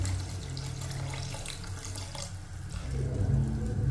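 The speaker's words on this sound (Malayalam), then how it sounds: "ചൂടുവെള്ളം ഒഴിക്കുകയാണ്" Hot water pours in a steady stream into a pan, the pitch shifting as it fills, close and continuous with no talking.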